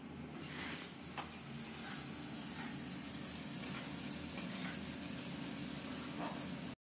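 Fried new potatoes sizzling as they hit spice paste for a koi fish curry, a steady close hiss with one sharp clink near the start, moderately quiet with no voices.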